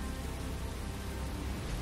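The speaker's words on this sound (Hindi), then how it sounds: "कुछ ही दिनों के बाद गांव में तूफानी बारिशें शुरू हो गई" Stormy rain in a Hindi animated cartoon, a steady broadband hiss of heavy rainfall, faint and continuous with no other sounds.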